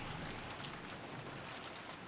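Steady rain falls throughout as an ambient sound effect in the Umineko visual novel game, a dense continuous patter of drops on surfaces with no voices over it.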